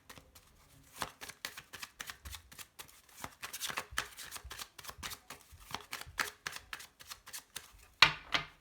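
A deck of tarot cards is shuffled and dealt for a Taurus reading, making a rapid stream of close, dry card snaps and flicks that ends in a louder slap as cards are laid down. Nobody speaks.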